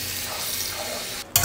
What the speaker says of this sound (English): you're gonna rinse it off in the sink to get all the starch and the chemicals that's on the rice off